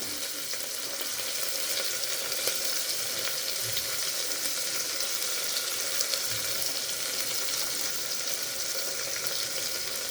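Medium-sized onions sautéing in oil after garlic, a steady, even sizzle and crackle of frying that continues without pause, moderately loud and close, with no speech over it.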